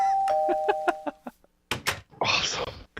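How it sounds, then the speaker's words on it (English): A Minecraft doorbell built with the Tinker's Construct mod rings a quick series of bright chime tones, followed by a couple of thuds and a burst of noisy clatter, with a little speech mixed in. "I built the doorbell."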